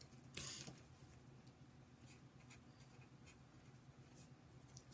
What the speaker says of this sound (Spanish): Escribo, por favor.